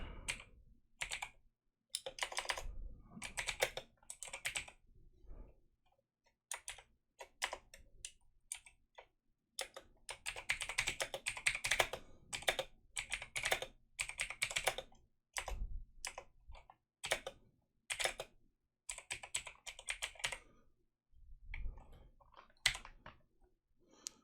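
Bursts of typing on a computer keyboard during Dune 2000 map making and mission scripting, with rapid clusters of key clacks separated by short pauses, close and fairly crisp, with no voices.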